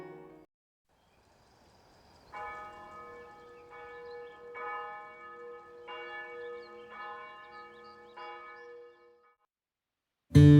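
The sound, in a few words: church bell ringing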